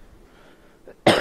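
A single sharp cough bursts out near the end after a brief quiet stretch with a faint breath.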